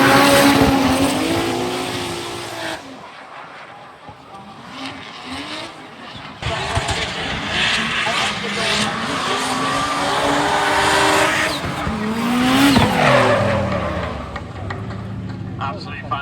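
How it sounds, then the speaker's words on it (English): A K20 turbo GT86 drift car of 770 horsepower roars past at speed at a drift event, its engine revving and the note sweeping up and down, with tyre noise, crowd sound and a commentator talking over it. "that K20 turbo, 770 horsepower GT86 coming through"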